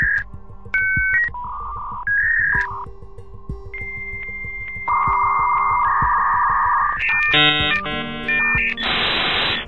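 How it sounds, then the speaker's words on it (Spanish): A 1990s dial-up telephone modem connects to the internet: dial tones and beeps, then sustained handshake whistles and shifting electronic tones ending in a harsh burst of static-like noise, loud and alone. "las personas se veían en la necesidad de conectar su módem telefónico hasta escuchar un peculiar"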